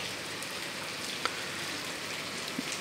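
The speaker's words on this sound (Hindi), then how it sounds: "रुक रुक के जो है बारिश हो रही है, धीमे धीमे, कभी तेज़, और काफ़ी अच्छी बारिश हो रही है।" Steady rain falling in Allahabad, a continuous even hiss of drops on surfaces with a couple of brief sharper drips, no voices.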